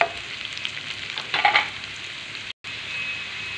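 Onion frying in a little oil in a pan, turned until dark pink, gives a steady close sizzle with a short louder burst of stirring midway and a brief dropout near the end.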